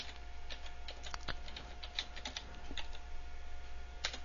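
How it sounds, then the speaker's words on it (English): Computer keyboard keys tapped in a quick, light burst as a file name is entered, close and fairly quiet over a steady background hum, with no talking. "I'll type in"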